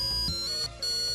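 A phone rings with a short, bright electronic ringtone tone that repeats after a brief gap, clear and fairly near.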